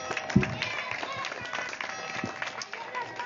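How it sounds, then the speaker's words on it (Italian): Audience at an Italian book presentation in Taranto applauds for a local official, a moderate scattered round of clapping with voices talking over it. "assessore Adamo, al quale tributerei un applauso"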